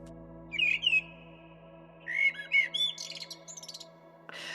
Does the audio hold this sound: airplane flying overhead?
no